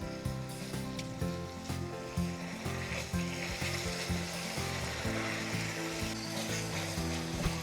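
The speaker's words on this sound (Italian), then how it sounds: "Questo è il rumore che deve fare, deve proprio soffriggere bene in modo che diventi la carne bella sgranata e cotta" Ground meat browning for an Italian lasagne ragù sizzles steadily in the pan, with a continuous crackle and frequent soft stirring scrapes, fairly quiet and without talk.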